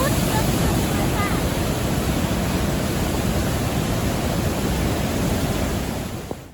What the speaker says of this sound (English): the waterfalls that run underneath the bridge arches make a roaring noise and sound like water bubbling up in a cauldron